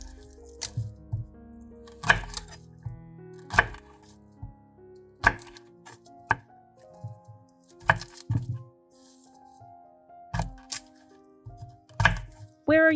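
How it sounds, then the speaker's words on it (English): Garlic cloves are sliced thin with a knife on a cutting board, giving sharp, irregular chopping taps spaced out over several seconds. The taps are close and fairly quiet, and there is no speech. "Cut the garlic into thin slices."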